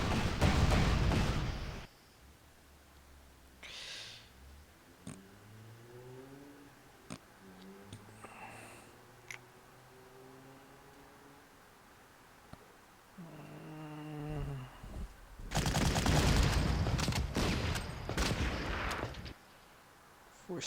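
Rocket artillery fires in the wartime strategy game Panzer Corps, with loud booming launch blasts at the start and end framing a stretch of rising whooshing rocket sounds and scattered ticks in between.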